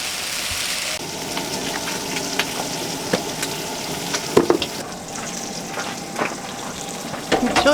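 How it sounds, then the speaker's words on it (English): Bacon sizzles and crackles in a pan while cooking aboard a sailboat, a steady close hiss with scattered sharp pops throughout and no talking. "Got bacon going."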